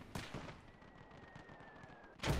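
Machine gun fire in the World War II strategy game Call to Arms: Gates of Hell, a quiet string of sharp bursts spaced through the moment, distant and faint.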